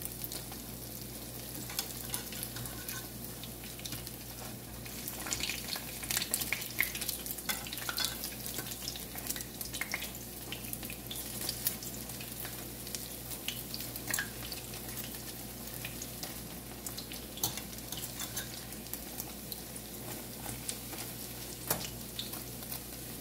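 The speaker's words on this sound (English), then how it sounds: "Gonna allow them to fry until they're golden brown." Spicy tin mackerel fritters frying in a pan of oil, a steady close crackling sizzle with scattered sharper pops throughout, fairly quiet and with no talking.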